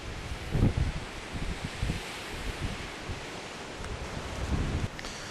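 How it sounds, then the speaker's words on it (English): Strong gusty wind of roughly 30 mph at an outdoor shooting range, a steady rushing roar with louder buffeting gusts hitting the microphone, no voices. "The wind is blowing hard."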